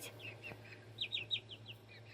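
Baby Silkie chicks, newly hatched, give a run of high, thin peeps, a few brighter chirps bunched near the middle over a low steady background hum.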